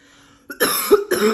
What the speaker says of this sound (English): Knew I was gonna cough like a fucking chain smoker.